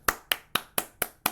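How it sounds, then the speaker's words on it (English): Six sharp hand claps in a steady, evenly spaced rhythm, close and crisp, with no talking over them. "I'll clap my hand for you."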